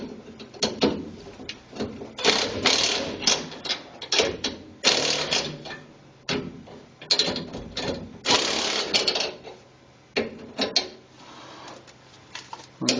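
Nuts on an over-leaf-spring assist are turned by hand, producing a close, loud string of metallic ratcheting clicks and scrapes in uneven bursts with brief pauses between, and no voices.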